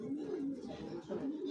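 Racing pigeons, a grizzle pair, coo in soft, rolling low throbs close by, repeating through the moment while someone talks over them.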